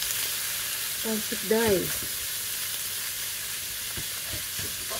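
Minced pork and beef sizzle steadily as they are sautéed with tofu in a pan, a constant close hiss with a few stirring taps, while a voice speaks briefly over it.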